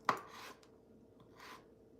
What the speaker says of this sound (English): Tiny, tiny chopping, and they're going in.